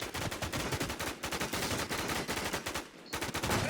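Rapid bursts of video game gunfire from a shooter, dense automatic fire crackling almost continuously with short gaps, loud and close throughout.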